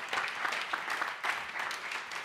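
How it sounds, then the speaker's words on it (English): Audience applause at a Nordic tech talk panel, a steady wash of clapping from a seated crowd lasting a couple of seconds at moderate level, with no speech over it. "I think this is the place where we can applaud now."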